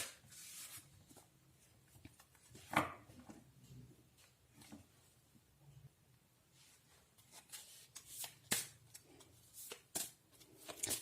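Soft papery shuffling and riffling of tarot cards, irregular bursts of rustling and flicking, close and quiet.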